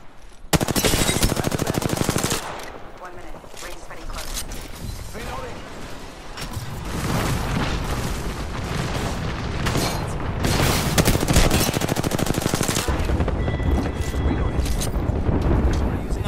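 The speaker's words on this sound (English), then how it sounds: "Opening fire." Heavy video game gunfire, dense automatic bursts and booming blasts rattling almost without pause, loud and close, with players' voices mixed in at moments.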